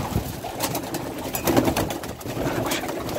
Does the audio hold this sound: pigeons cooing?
yes